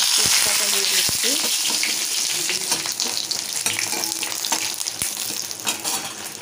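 Cardamom, cloves, cinnamon, dried red chillies and bay leaf frying in hot oil for a vegetarian curry: a bright, crackling sizzle with sharp pops and stirring clatter, loud at first and easing slightly.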